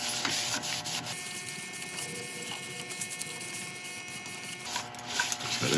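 Abrasive paste is rubbed onto a turned wooden piece on a woodturning lathe, giving a soft, continuous rubbing over a low mechanical hum, fairly quiet and close.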